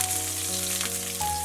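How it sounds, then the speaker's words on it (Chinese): Scallion, ginger and dried chili pieces sizzling in hot cooking oil in a wok, a steady close frying hiss with no talk, under faint background tones. "锅中倒点食用油，油热以后放入葱姜和干辣椒段儿"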